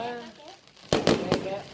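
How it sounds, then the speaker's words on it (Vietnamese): Fireworks burst at a backyard party in Florida, a few loud close cracks in quick succession following a stretch of excited talking. "bây giờ vào bắn pháo bông nè"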